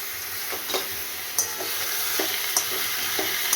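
Marinated food fries in a kadai with a steady, fairly loud sizzle and a few light scrapes of stirring spaced through it.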